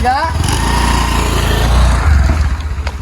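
A Honda Activa scooter engine runs close by with a steady, loud low hum that swells slightly, while people talk over it.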